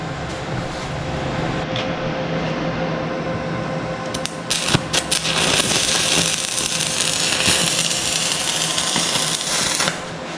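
A part is welded up, and a steady, hissing crackle starts partway through and holds loudly over the background noise of the workspace before cutting off near the end.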